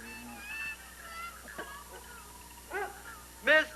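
A hound dog gives a few scattered yelps and whimpers between quieter stretches, fairly close, with faint background voices and noise.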